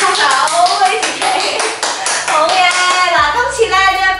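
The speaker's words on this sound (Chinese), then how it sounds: "而家兩隻手舉起，放在前面，然後拍手俾自己" During a home HIIT workout done without equipment, a pair of hands claps in quick repeated bursts close to the microphone, with an instructor talking over the claps and music playing along with them.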